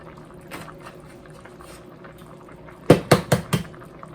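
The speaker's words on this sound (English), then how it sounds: "we're going to crack the eggs right into our peas, and we're going to just drop them in just like you're going to poach them" Eggs crack and drop into a pot of simmering peas: a low bubbling hum, then four quick splashy thuds in close succession near the end.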